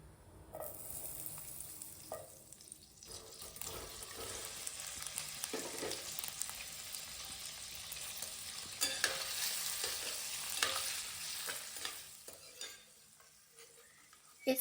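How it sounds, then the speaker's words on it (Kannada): Paneer frying in butter in a pan, a steady soft sizzle with occasional scrapes and stirring knocks of a utensil, continuous and fairly quiet throughout. "ನಾನಿಲ್ಲಿ ಪನ್ನೀರ್ನ ಸ್ವಲ್ಪ ಬಟರ್ ಹಾಕ್ಬಿಟ್ಟು ಫ್ರೈ ಮಾಡ್ಕೊತಾ ಇದ್ದೀನಿ."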